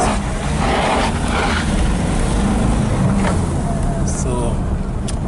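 A Nissan NP300 pickup with a turbo boost pressure sensor fault drives on a road test, its engine and road noise forming a steady loud drone from inside the cab.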